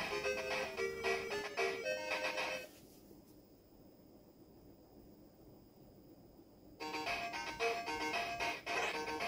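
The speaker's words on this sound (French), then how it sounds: "la musique de 5 secondes qui boucle dans le jeu intégré à la console" Chiptune music from the built-in Alex Kidd game on a SEGA Master System 2 plays as a bright, beeping melody, drops out for several seconds, then resumes.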